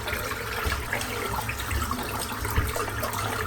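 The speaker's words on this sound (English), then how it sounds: "I'll just give the soap a rinse out." Steady running water rinses out a shaving soap, a continuous close splashing hiss with small gurgles that holds at an even level throughout, with no voices.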